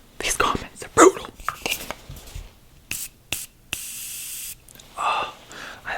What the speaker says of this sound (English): I need a little bit of the Morphe spray mist